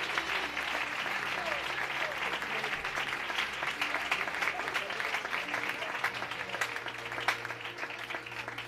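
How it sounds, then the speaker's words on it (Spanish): Congregation in church applauding loudly to welcome the reading of the Word, a sustained, even wash of clapping with faint voices mixed in. "¿qué les parece si recibimos la palabra del Señor con un fuerte aplauso? Fuertes aplausos."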